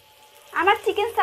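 Chicken shashlik sizzles and spits in a frying pan, a close, loud burst of crackling that starts suddenly after a quiet moment and pulses for under a second.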